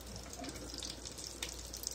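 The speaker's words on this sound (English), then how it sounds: "We add the juice that's left in the pan in there." Leftover tomato juice pours from a cooking pan into a sauce, making a soft, continuous liquid trickle and splash at close range, fairly quiet and with no talking.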